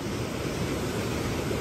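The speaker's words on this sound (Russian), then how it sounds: "потому что у нас такие дикие волны" Wild ocean waves crashing on a beach, a steady loud roar of surf with wind noise on the microphone, no voices.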